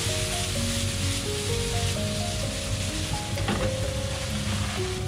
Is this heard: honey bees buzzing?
no